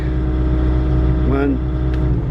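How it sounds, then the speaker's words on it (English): Bobcat T76 compact track loader engine running steadily at a loud, close low drone, with a brief falling tone partway through as the engine idles itself down; a voice talks over it. "see how it automatically idled down?"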